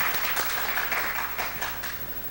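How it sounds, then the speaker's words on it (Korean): A church congregation claps in a short burst of applause, close and fairly loud, with distinct individual claps in an uneven rhythm, trailing off slightly at the end. "감사하다는 박수 한 번만 더 쳐드리겠습니다."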